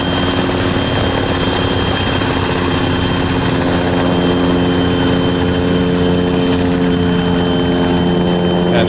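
A big helicopter in Arma 3 drones loudly and continuously, its steady rotor and engine hum filling the whole stretch without pause.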